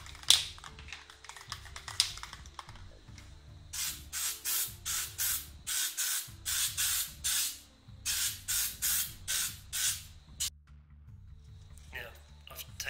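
Short rhythmic bursts of aerosol primer spraying onto a plastic R2-D2 radar eye, close and loud, in repeated on-off pulses with brief pauses between them.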